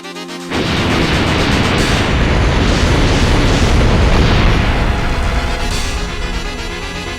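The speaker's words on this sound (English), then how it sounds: "The Galactic Explosion is actually labeled as its most powerful attack." In the Wild Arms 2 video game, the Galactic Explosion attack bursts in with a sudden loud boom that swells into a sustained roaring blast, fading slightly toward the end.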